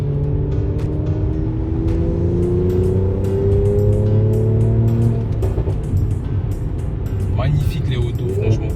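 A Mercedes C450 AMG (C43) sedan engine revs up hard with rising tones, loud and close, while someone talks over it.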